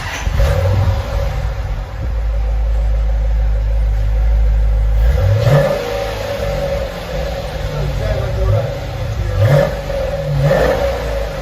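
A Dodge Challenger R/T 5.7L V8 engine rumbles at idle, then revs up through the exhaust several times in short bursts, loud and close.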